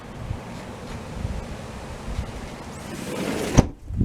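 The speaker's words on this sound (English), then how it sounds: "The wind has not stopped." Wind blows steadily outdoors, a broad rushing roar buffeting the microphone for several seconds with a sharper gust near the end.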